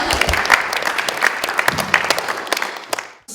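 A room of listeners claps for an internship mentor, a moderately loud round of applause with distinct individual claps standing out, fading as it winds down.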